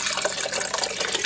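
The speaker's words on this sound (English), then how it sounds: "I'm just going to pour it in the top" Water poured from a container into the top of a jar of alfalfa sprouts, a steady close splashing pour lasting about a second with no talk.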